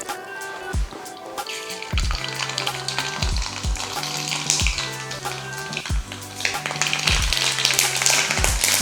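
Mustard and fenugreek seeds splutter and crackle in hot gingelly (sesame) oil for a pickle, a dense, steady sizzle with sharp popping bursts and stirring taps throughout, close and fairly loud with no talking.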